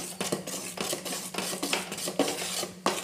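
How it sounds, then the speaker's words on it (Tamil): Mysore pak mixture being stirred in a pan over medium-high flame, with repeated scraping strokes of a metal spatula against the pan in an uneven rhythm, close and moderately loud, with a faint sizzle underneath and no speech. "மாற்றி மாற்றி வச்சு நல்லா கலந்து விட்டுக்கலாம்"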